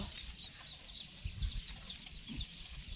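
Chickens cluck and murmur softly around a rural Thai home, low intermittent calls with a few slightly louder bursts over steady background noise and no one speaking.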